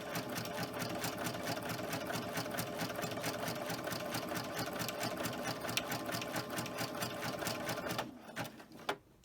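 A sewing machine stitches with a double needle, its tension turned up after skipped stitches, in a fast steady mechanical chatter close by that cuts off near the end with a couple of small clicks.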